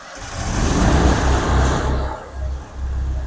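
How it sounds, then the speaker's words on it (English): Both engines on an AJ2340 dual-reel jetter trailer fire up, settling into a loud, steady low rumble with slight surges as they run alone. "And we're going to start both engines."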